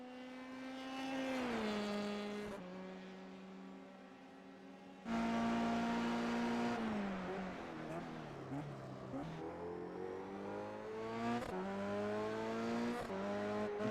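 A Formula 3 race car in a racing game lapping Hockenheim during qualifying: a high, buzzing engine note rises and falls through gear changes, dropping away and surging again with steady acceleration and occasional tire noise.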